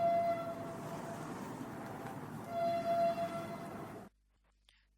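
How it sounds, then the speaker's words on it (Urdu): A loud passing train roars steadily with a broad rumbling wash and high tonal whine, swelling briefly near the end before cutting off abruptly into near silence. "یہ آواز ایک ٹرین کی آواز تھی اور بہت اونچی تھی."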